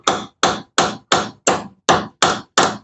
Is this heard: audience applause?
no